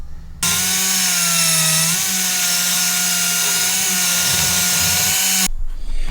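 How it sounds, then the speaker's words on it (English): Drill with a carbide bit boring out a hole in a Jeep TJ tire carrier bracket, a loud, steady high-pitched whine that starts abruptly, holds for about five seconds with slight pitch dips under load, then stops. "so I got to open that up with a carbide bit"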